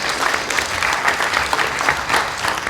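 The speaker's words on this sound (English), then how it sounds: "Applause for Healthy Cakes, guys." A crowd applauds a presenting team at a startup weekend pitch event, steady dense clapping throughout at close range, with no voices over it.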